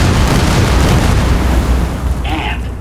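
Missile launcher blast from the M235 system in Fallout: New Vegas, a loud, broad rumbling roar that fills the whole stretch and tails off slightly near the end.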